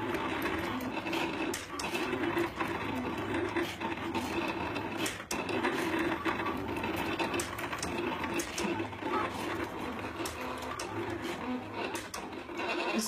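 Cricut Maker and Silhouette Cameo 3 cutting machines run side by side, giving a steady mechanical whirring and clattering with rapid ticking motor pulses, moderately loud and continuous throughout.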